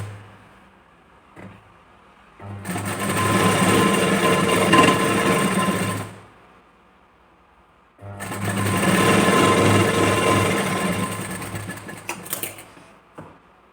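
A sewing machine stitches a blouse with tucks, running in two steady, loud bursts of several seconds each, separated by a quiet pause and a few faint handling clicks.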